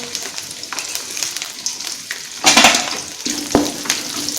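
Peanuts, garlic, curry leaves and mustard seeds frying in a pan, a close, loud sizzle with bursts of vigorous stirring and clinking, including one sharp scrape midway.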